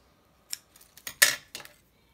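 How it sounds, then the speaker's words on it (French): Scissors snipping ribbon for a junk journal pocket, a few short crisp cuts in an irregular rhythm, close and alone with one louder snip in the middle. "je vais prendre du ruban que je vais couper"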